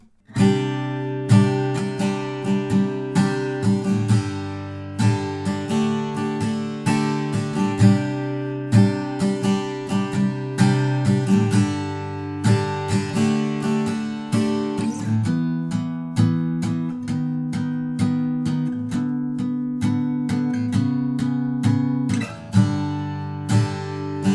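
Acoustic guitar strumming the chorus chords of a song in a steady rhythm, chords ringing and changing every few beats, played close and alone.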